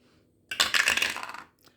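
A six-sided die clatters down through a dice tower during a board game, a quick burst of rattling plastic knocks lasting about a second before coming to rest.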